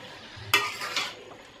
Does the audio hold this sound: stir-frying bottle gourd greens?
yes